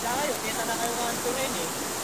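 River water flows steadily at the foot of Mount Samat, a close, continuous broadband rush like a stream over rocks, with a faint voice-like tone drifting over it.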